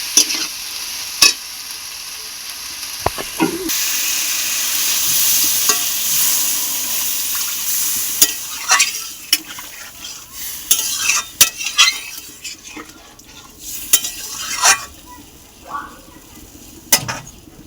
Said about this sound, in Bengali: কষা হয়ে গেছে এবারে জল দিয়ে দেবো